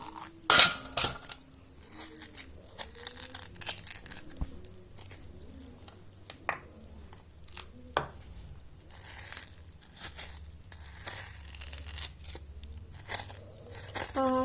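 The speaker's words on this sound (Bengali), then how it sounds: "এরপর আমি বেলের শাঁসগুলোকে চামচের সাহায্যে বের করে নেব।" A metal spoon scoops and scrapes the soft pulp out of a ripe bael fruit in a series of uneven scraping strokes and light clinks, with faint bird chirps in the background.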